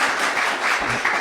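Audience applause at a poetry reading and book launch, a steady wash of clapping filling the room throughout, fairly loud and even with no voices on top.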